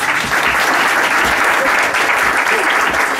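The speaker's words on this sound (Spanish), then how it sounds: "le íbamos a pedir que sacáramos aplausos" Steady, loud applause from an audience at a kindergarten music class fills the whole stretch, dense and continuous clapping with faint voices mixed in underneath.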